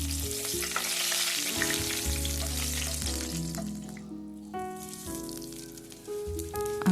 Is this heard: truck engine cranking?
no